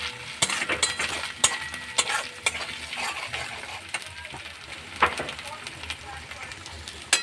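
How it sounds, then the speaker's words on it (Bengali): Ground coriander and cumin are stirred in a pan of frying paneer curry base, with a sharp spatula scraping and clinking in irregular strokes over a soft, continuous sizzle, with faint speech. "একটু ধনে গুঁড়ো, একটু জিরে গুঁড়ো দিয়ে ভালো করে নাড়াচাড়া করে"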